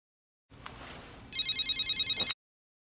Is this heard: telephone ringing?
yes